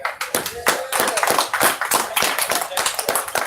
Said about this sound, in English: Everyone, Scott Horton, give him a round of applause.